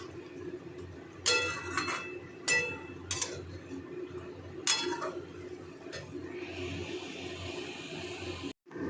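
A spoon stirring boiled chickpeas with spices in a pan, a few scattered metallic scrapes and clinks against quiet sizzling background noise, then a soft steady hiss.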